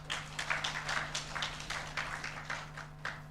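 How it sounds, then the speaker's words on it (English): Audience applause at a public forum on climate change in Kenya's drylands, a steady wash of many hands clapping with a low electrical hum underneath, moderately loud and continuous. "Let's give her another round of applause."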